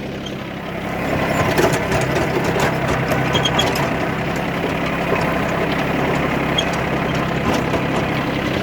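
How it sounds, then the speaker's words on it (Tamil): A 30hp tractor runs with its rotavator attached, giving a steady, loud, close engine drone with a low rumble that holds without a break. "இந்த இப்போ ரொட்டேட்டரில் சவுண்டு வருது இல்லைங்களா"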